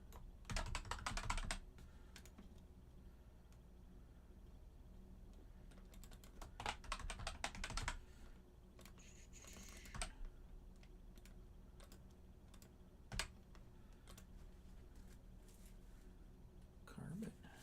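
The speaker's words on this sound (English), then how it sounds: "I'm sure the typing already is." Typing on a computer keyboard in a home office, with bursts of rapid clicking keystrokes near the start and around the middle, separated by quieter stretches with sparse single taps; close and moderately loud.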